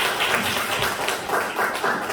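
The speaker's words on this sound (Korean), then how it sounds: "박수." A congregation at a Sunday morning church service applauds, a brief soft patter of many hands clapping in an irregular rhythm, moderately close with a slightly muffled room sound.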